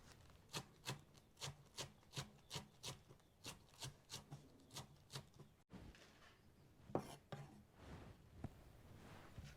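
A knife chops pandan leaves rhythmically on a board, about a dozen steady strokes, then the rhythm breaks into scattered softer scraping and handling sounds.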